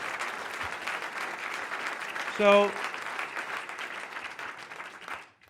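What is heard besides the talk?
town hall audience applauding community activists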